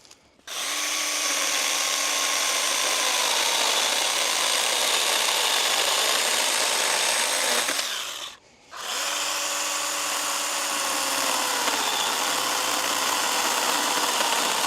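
A battery-powered garden tool cuts through firewood with a loud, steady whine that runs almost continuously, breaks off briefly for a moment, then picks up again at full strength.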